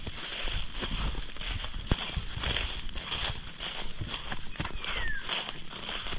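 A new horse walking on a Filipino farm, hooves clip-clopping in a steady, moderately close rhythm over continuous background noise, with no talk.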